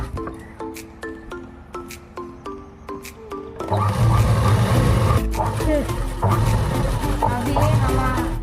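A sewing machine stitches a dress neckline, first as rapid evenly spaced mechanical ticks, then as a denser continuous whirring run under a voice speaking.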